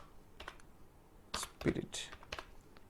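Computer keyboard keys pressed while editing an Excel spreadsheet, a few faint, close clicks spaced irregularly over about three seconds.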